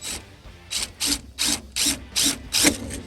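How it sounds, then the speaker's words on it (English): A hand ratchet tightens self-tapping screws on a first-generation Dodge truck, with six or seven close, loud bursts of rapid clicking at a steady back-and-forth rhythm and no talking. "I got 2 more self-tappers, and then we gotta tighten them down"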